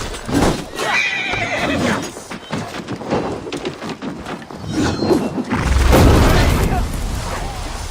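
Horses neigh and whinny loudly amid galloping hooves, with booming impacts and shouting voices mixed in, from a battle in the video game Assassin's Creed Valhalla.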